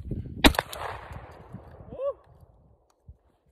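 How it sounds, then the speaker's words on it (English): A single sharp blast from a bullpup shotgun near the start, followed by a reverberating tail and some handling noise, then a faint click near the end. "This is the bullpup shotgun. Never shot a bullpup. About to."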